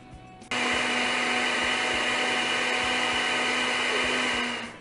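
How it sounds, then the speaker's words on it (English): A blender starts abruptly and whirs loudly and steadily while mixing cereal with water, a continuous high motor drone that holds for several seconds, then begins to fade slightly at the end. "we're going to pour our cereal into the blender. Then we're going to add water."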